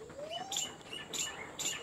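Old-line Andhra pigeons give a thin rising chirp followed by three short bright squeaky calls spaced evenly, fairly faint, with no voices.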